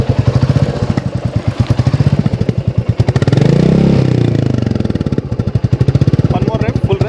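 A Royal Enfield Classic 350 single-cylinder motorcycle idles with a steady, close thumping beat, then a short throttle blip swells the engine into a rev before it settles back to its rhythmic idle thump.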